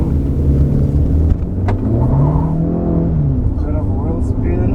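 A 2024 Jetour X70 Plus Deluxe, a 115 kW turbocharged seven-seat SUV, accelerates hard from inside the cabin, its engine note rising steadily and loud while a voice speaks over it.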